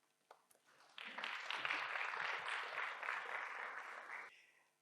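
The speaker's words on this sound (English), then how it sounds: "A round of applause, please." At a moot court competition opening address, a crowd breaks into applause after a few scattered claps, clapping steadily for several seconds before fading out.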